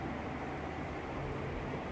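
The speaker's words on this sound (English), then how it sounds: "I do have a fan on, so you may hear a little white noise in the background." An electric fan runs steadily indoors, giving a faint, even hiss of white noise with no change or pauses throughout.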